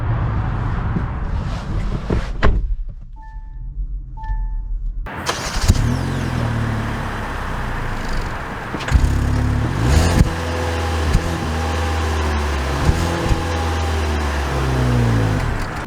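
A 2023 Kia Soul pulling away and driving, the engine rising and falling through several revs after a brief quiet pause, loud and close throughout.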